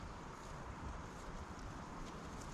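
Wind gusts against a Trekker tent at a forgotten campsite, a steady broadband rush with a faint fluttering of fabric that holds at an even level throughout.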